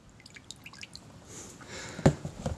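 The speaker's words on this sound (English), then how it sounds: "I'll put it in some clean water here to rinse off the salts from the baking soda." A steel part is dipped and rinsed in clean water after bluing removal, giving quiet scattered drips and small splashes, then a sharper splash and sloshing near the end, close and faint.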